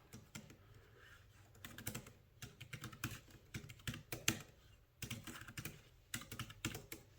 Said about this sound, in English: that's the typing experience